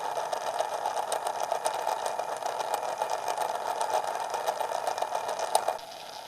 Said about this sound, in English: this is the same transmission with the gears fully loaded with the brass gear in place